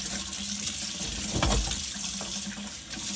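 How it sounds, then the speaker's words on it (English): Hot water runs steadily from a kitchen tap into a sink while fried matzo is being prepared, a continuous close splashing hiss with a brief heavier gush midway and no voices. "Gonna turn our hot water on, just make sure it gets a little warm."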